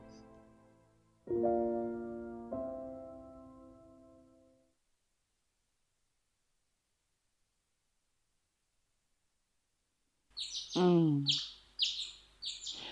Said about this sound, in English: I awoke to the sound of birds chirping.